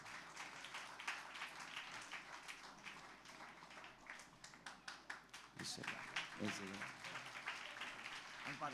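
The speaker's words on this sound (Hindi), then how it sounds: "हम सब ताली बजाकर उनको स्वागत दिखाएंगे।" A church congregation claps steadily to welcome an evangelist at a special service, a dense wash of many hands continuing throughout with a few sharper claps near the end.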